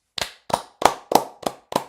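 One person claps their hands six times at an even pace, each clap sharp and close with a quick fade.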